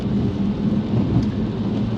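Steady rain falling outdoors around a moving 2017 Porsche 911, a loud continuous wash of broadband noise with low rumble, no voices.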